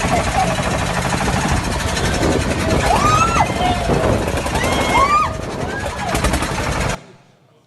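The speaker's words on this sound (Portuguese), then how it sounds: "Não apareceu o barco, só a zoada." A boat engine roars through a played-back recording at a church service, a loud, constant mechanical drone with thin rising and falling tones over it that cuts off abruptly near the end.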